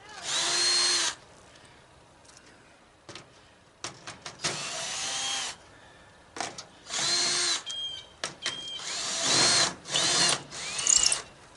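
A power drill bores through sheet aluminum salvaged from a scrapped travel trailer, in several loud whining bursts of a second or two each, separated by short pauses and small metallic clatters.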